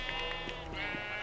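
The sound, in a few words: sheep bleating in a video game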